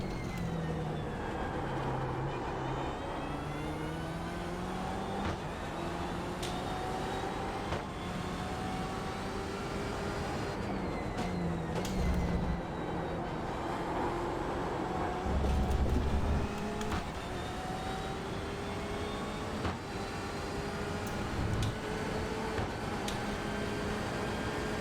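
A BMW M8 race car in iRacing at Sebring roars steadily at close range, its engine pitch climbing and dropping through gear changes and corners, with occasional brief pops and another car passing.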